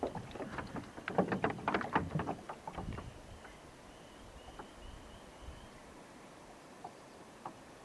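Small rowboat out on Lake Mécan: a flurry of sloshing water and hull knocks fills the opening three seconds, then settles into quiet open-air stillness broken by a few faint splashes and drips, no voices.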